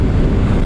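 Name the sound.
strong wind blowing on the microphone while driving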